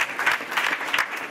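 Polite applause from a high school audience at an after-prom hypnosis show, steady dense clapping of many hands filling the room at moderate loudness with no voices over it.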